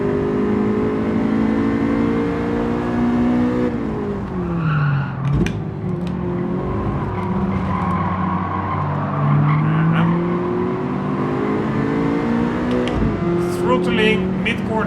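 A race car engine in Gran Turismo 7 drones steadily, rising and falling through corners with tire squeal and skidding, and the pitch dips and climbs over the lap while someone talks over it.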